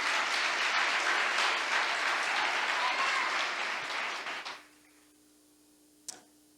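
A church congregation applauds during a Sunday sermon, a thick, even roar of clapping that holds for several seconds, then dies away quickly, leaving near-silence and one faint click.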